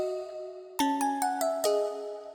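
A synthesized music box preset in VPS Avenger 2 gives a held tone, then five bright, bell-like plucked notes in quick succession that ring and slowly fade, soft and alone.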